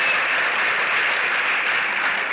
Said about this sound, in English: Let us give him a round.